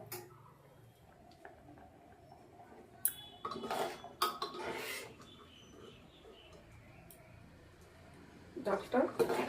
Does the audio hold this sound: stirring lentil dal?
yes